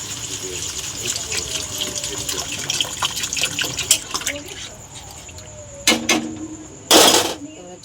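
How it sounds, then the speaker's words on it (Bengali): Water goes into a cooking pan of spiced masala fried with sour yogurt and oil for a kohlrabi and egg curry, a steady close gushing and sizzling, then two short loud splashes near the end. "জল দিয়ে দিলাম"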